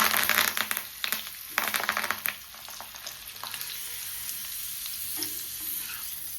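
Curry leaves crackle and sizzle in hot oil while being stirred for chicken pakoda, with a loud burst of frying in the first two seconds that settles into a steady, softer hiss.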